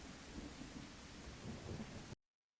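A thunderstorm weather sound effect in the Multiverse Designer program plays as a dense, steady wash of rain with low rumbling, loud and unbroken for about two seconds before cutting off abruptly to silence.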